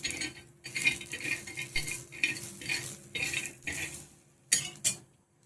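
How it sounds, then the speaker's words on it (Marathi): Peanuts dry-roasting on a hot tawa, stirred in quick repeated scraping strokes that come in short bursts with brief pauses, close and fairly clear, ending with a couple of sharper clinks. "शेंगदाणे छान असे भाजून घ्यायचे खरपूस"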